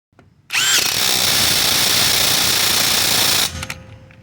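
A battery-powered impact wrench roars in one loud, continuous burst for about three seconds, with a faint whine as it winds down.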